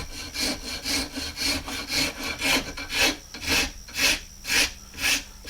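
The coarse side of a rasp carves a wooden matchplate pattern for sand casting, with about ten loud, rhythmic back-and-forth scraping strokes heard up close and alone.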